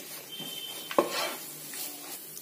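Curry leaves and rice fry in a pan while a spoon stirs them, a soft sizzle running under one clear metallic clank of the utensil against the pan and a few quieter scrapes.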